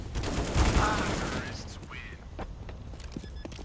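Bursts of gunfire from Counter-Strike: Global Offensive, loud at first then fading into scattered shots, with a voice talking over the action.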